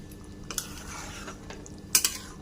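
Chicken curry with spices being stirred in a pot, heard as a few soft scrapes and two clear metallic clinks of the spoon against the pot over a quiet simmering background.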